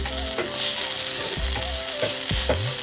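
Food sizzles steadily in a hot pan, a constant hiss broken by a few scraping stirs at a regular pace, close and fairly loud.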